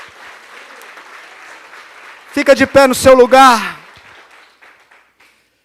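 A church congregation claps along in a Portuguese-language worship service, a soft scattered patter at first, then mostly covered by a man's loud, ringing voice before the sound fades out.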